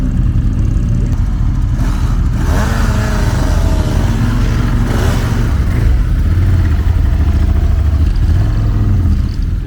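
A Triumph motorcycle engine runs loud and close, its rough mid-range roar rising in revs and settling back to a throbbing idle, with faint clatter underneath and no talking.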